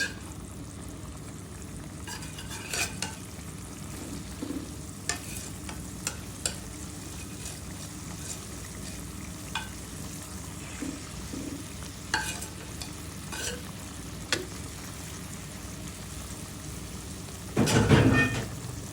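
Rui fish frying in hot oil in a pan for a Bengali fish curry, with a steady soft sizzle throughout, scattered scrapes and taps of stirring, and a louder burst of sizzling near the end.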